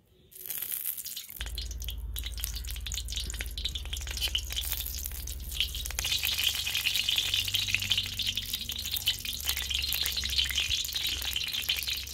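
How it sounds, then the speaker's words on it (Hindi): Desi ghee heats and spreads in a kadhai on a stove for carrot halwa, giving a steady close hiss and light crackle with a low hum, growing a little fuller partway through. "देसी घी जो है वो डालेंगे कढ़ाही में।"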